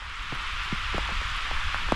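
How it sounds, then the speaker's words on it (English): Heavy rain pours steadily outside at a cold desert camp at night, a dense continuous hiss with scattered louder drops striking a nearby surface, no wind and no voices. "Oh, listen to the rain out there."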